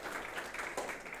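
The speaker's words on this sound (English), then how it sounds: "big round of applause for an academy." Audience applause for an academy at a school event, a faint, steady wash of many hands clapping for just over a second.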